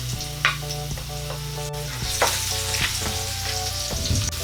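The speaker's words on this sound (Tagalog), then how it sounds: "Tapos isusunod natin ang ating bawang." Garlic sizzles steadily in a hot pan as the start of a beef tripe stir-fry, with a continuous close frying hiss, occasional stirring scrapes and a faint background tone; no one talks.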